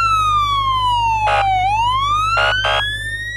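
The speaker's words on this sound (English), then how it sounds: "This is a light and sound signal which is located on the top of a police car." A police car siren on a light and sound signal unit wails loud and close, its pitch sliding down then sweeping back up, with short bursts of a second tone cutting in over it.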